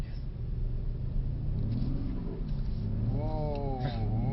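A Mercedes C63 AMG pulls away gently into second gear: a deep, steady engine rumble up close, with the engine note climbing clearly over the final second or so.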